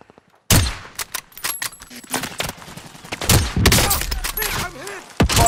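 A squad battle in a shooter game erupts into loud, close gunfire: rapid volleys and single cracks fire in irregular clusters after a brief silence, with scattered voices under the shots.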